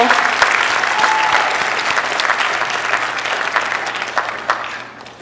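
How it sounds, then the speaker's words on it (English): Audience applause fills a nursing pinning ceremony hall. The clapping is loud, dense and steady for about five seconds and thins slightly toward the end. "Let's give them another round of applause."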